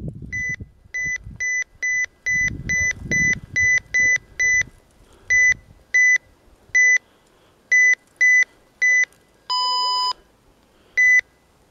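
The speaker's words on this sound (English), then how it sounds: "very, very high-pitched button beeps here" A rapid series of short, high-pitched electronic button beeps from a RadioShack 12-522 radio in irregular bursts, with one longer tone near the end, close and sharp.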